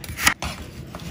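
A knife cuts through food, maybe carrots, in a couple of quick, crisp chops close up, the first one loudest, with no voices.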